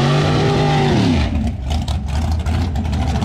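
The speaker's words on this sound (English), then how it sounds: "It's a quick short little burnout." A drag racing dragster at a Maui drag strip revs loudly in a quick, short burnout, its engine pitch sliding downward before settling into a rough, roaring rumble, close and dominant with no voices.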